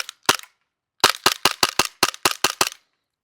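An airsoft gun fitted with a T238 Swift tracer unit fires outdoors: two sharp pops, a short pause, then a rapid string of about nine snappy shots in quick succession, loud and close, with no talk.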